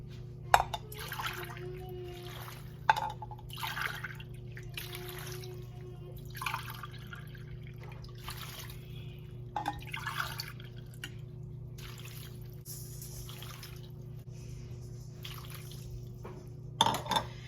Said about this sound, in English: now we're going to add about 5 cups of water to this